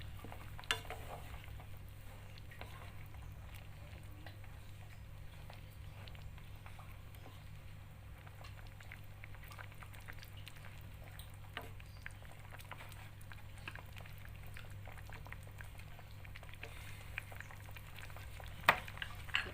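A spoon stirs a coconut milk vegetable curry with tofu, tempeh and petai in a pot, giving faint, irregular scrapes and soft taps over a low steady hum, with a couple of sharper clinks.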